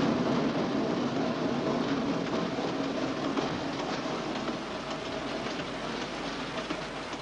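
A train rolls steadily along the rails, a continuous rumbling clatter with no voices, holding at an even level throughout.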